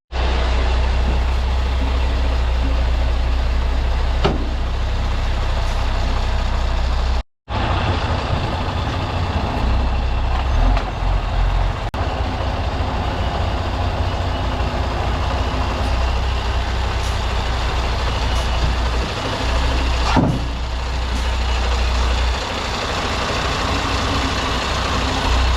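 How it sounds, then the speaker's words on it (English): An HGV tractor unit easing out from under a trailer, a heavy diesel engine idling and rumbling steadily at close range, with a brief cut-out partway through and occasional knocks and air hisses. "then just gently ease the unit out from underneath the trailer"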